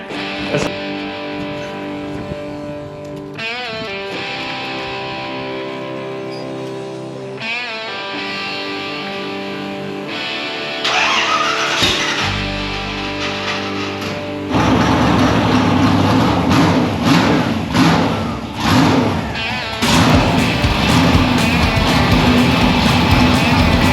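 A 1961 Ford F100 Gasser truck with a small-block Ford V8 runs loud and close, its engine rumbling, then rising sharply in a harsh roar as it pulls away and accelerates.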